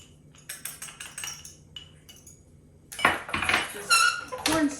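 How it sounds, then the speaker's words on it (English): Cornstarch whisked into rice milk in a pot on a burner, quick metallic clinks and scrapes of a whisk against the pot, close, getting louder and busier in the second half, with no voices. "I'm going to whisk in"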